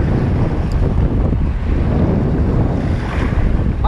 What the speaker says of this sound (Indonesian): Aduh, anginnya.